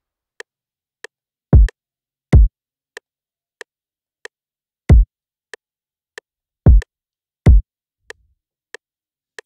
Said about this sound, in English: Starting from the kick, sounds like this.